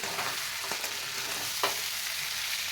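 Cabbage sautéing in a pan, a steady close sizzle with faint stirring scrapes and a couple of brief clatters, no talking.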